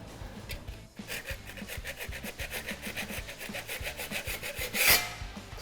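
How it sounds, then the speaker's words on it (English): A hand scraper is drawn repeatedly across a custom-built wooden bar surface, a close series of rhythmic rasping strokes with one louder scrape near the end. "And I can also use my scraper, scrape stuff off."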